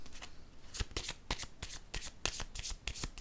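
Playing cards being shuffled and handled up close, a run of crisp, rapid riffling snaps and flutters in quick irregular bursts, with no voices.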